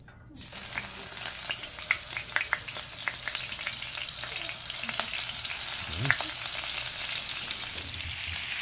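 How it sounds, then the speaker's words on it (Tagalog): Pieces of marinated jackfruit frying in hot oil, giving a steady, loud crackling sizzle that starts after a brief quiet moment and continues throughout with scattered pops, close and with no talking. "Ready na po yan para iprito. Ipiprito po natin yan ng madalian."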